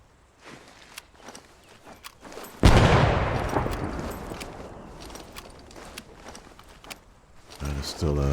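A grenade blast in Arma 3 lands as one loud, sudden boom that rolls off slowly, with scattered gunfire and footsteps both before and after it and a voice speaking softly underneath.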